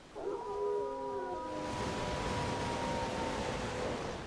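Dogs in the Elden Ring video game howl in long, wavering tones that rise and sustain over a few seconds, loud and close against a hissing background.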